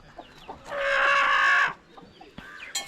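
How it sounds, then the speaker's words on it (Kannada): A broody hen lets out one loud, drawn-out call lasting about a second, then a few softer clucks follow in a quiet farmyard. "ಇದೆಲ್ಲ ಕಾವಿಗೆ ಬಂದ ಕೋಳಿ ಏನಲ್ವಾ?"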